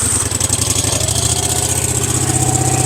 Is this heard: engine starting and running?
yes